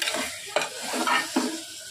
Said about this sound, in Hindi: मसालों को अच्छी तरह से भून रहे हैं।